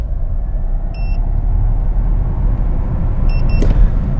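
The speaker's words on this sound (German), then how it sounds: "Für diesen Test fahre ich ungefähr 60-70 km/h und drücke dann durch" An Audi e-tron S electric car accelerating hard at full throttle from about 60–70 km/h, heard from inside as a loud, steady low rumble of road and motor noise, with a few short electronic beeps.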